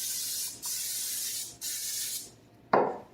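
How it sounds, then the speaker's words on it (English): Cooking spray is sprayed around the edges of a lasagna pan over a sink, in two long close hissing bursts, then a short fainter hiss after a pause. "we're going to spray this around the edges so that it's easier to clean"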